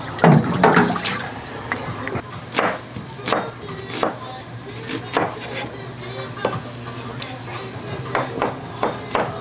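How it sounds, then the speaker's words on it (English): Fresh conch being rinsed in salt water at Bimini, with splashing and sloshing water, scattered knocks of shell and handling, and a person talking over it. "Let's rinse it off."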